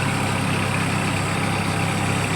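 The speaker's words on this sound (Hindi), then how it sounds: "अब ये देखो किसान खेतों में ट्रैक्टर चला रहे हैं" A farm tractor runs in a field flooded with water, its engine giving a steady, unbroken drone with a constant low thrum and broad noise and no voices.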